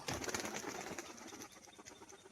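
Biscuit pigeons flipping and tumbling in flight, with a burst of fluttering wingbeats and soft cooing close by, the flapping loudest at first and then thinning out over a couple of seconds.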